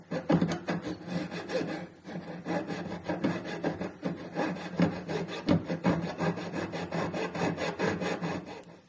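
A jeweler's saw blade cuts metal held against a bench pin in quick, rhythmic rasping strokes, close and moderately loud, with brief pauses between bursts.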